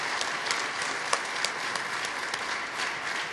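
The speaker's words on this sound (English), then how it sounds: "let's have a round of applause for the group" An audience gives a round of applause for the technical teams. The clapping is sustained and moderately distant, with a few sharper individual claps standing out.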